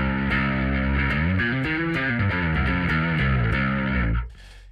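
A bass guitar plays through heavy, buzzy distortion, a thick sustained growl with shifting notes that cuts off abruptly near the end.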